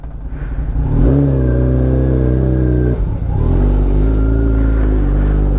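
A motorcycle engine revving loud and close on a first ride, climbing into a steady high drone, dipping briefly near the middle and then rising and holding again, alone with no voices.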